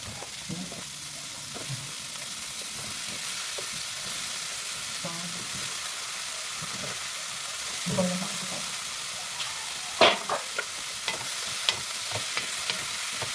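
Eggplant and mixed vegetables sauté in a hot pan for a Filipino ginisang gulay, giving a steady, close sizzle with scattered stirring clatters and a few sharper utensil knocks toward the end, no voices.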